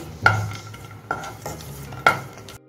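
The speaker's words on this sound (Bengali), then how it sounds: "এখন আমি কাজু আর আলমন্ডটা দিয়ে দিচ্ছি। এগুলো আমি ঘিয়ে ভেজে নেব।" Cashews and almonds going into hot ghee on a medium flame, with three sharp clinks and stirring scrapes over a low sizzle, close by and without speech.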